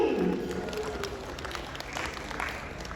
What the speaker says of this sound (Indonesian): Tepuk tangan untuk Pemprov Bali.